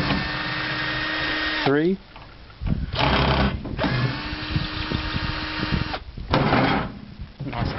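A power tool buzzes loudly while it backs four bolts out of a microwave oven transformer. Steady whirring bursts start and stop, with short pauses between them, and a man counts aloud in the gaps.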